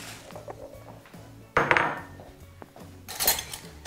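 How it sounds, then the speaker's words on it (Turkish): An egg is cracked against a bowl and dropped into it while making a spinach dish with breadcrumbs and flour: a sharp knock and crack, then a later light clatter of the shell and bowl, nearby, with no talking. "Şimdi yumurtamızı da başka bir kabımızın içerisine kırıyoruz."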